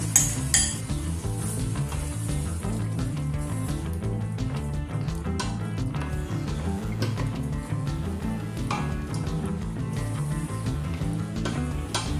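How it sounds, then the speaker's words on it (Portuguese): Shellfish sautéing in a pan for seafood rice, soft sizzling under repeated clinks and scrapes of a utensil stirring against the pan, close and steady, no talk. "Deitamos o resto do marisco, envolvemos bem e deixamos refogar."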